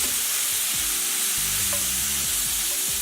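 Seasoned beef for lettuce wraps sizzles and crackles steadily in a hot pan, with low clunks of a utensil stirring and scraping through the meat.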